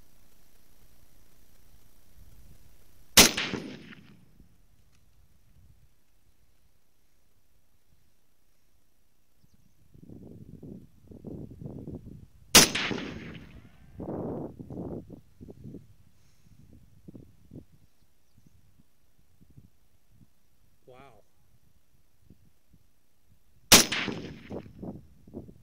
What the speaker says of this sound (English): let's get started with this M1A. And I will shoot at the top dot.